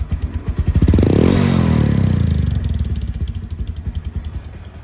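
A Bajaj Discover 135cc motorcycle engine idles with a steady putter, swells into a loud rev, then falls back to an even idle. Close and clear, with no talk over it.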